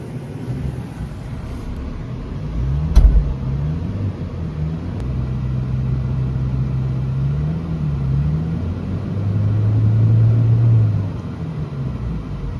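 A 2019 or 2021 Toyota Fortuner idles while warming up, a low steady rumbling drone close by, with a brief knock early on and a slight rise in engine pitch later, no voices.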